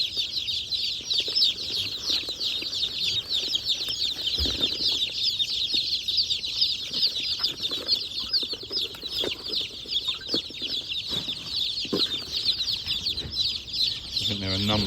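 A flock of meat bird chickens on a smallholding keeps up a dense, steady chorus of clucks and chirps from start to finish, with occasional low knocks and bumps nearby.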